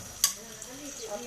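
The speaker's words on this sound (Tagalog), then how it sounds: "Lagyan natin yung sibuyas at bawang." Onion and garlic frying in a pan for a fried chicken wings and salad dish, a soft steady sizzle with one brief sharp scrape of stirring near the start, no talk.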